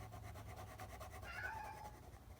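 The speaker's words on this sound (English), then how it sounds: "if you can hear that, that's my cat Kevin." A cat meows from just outside a closed room, wanting in. The single drawn-out call is faint and distant over a low steady hum.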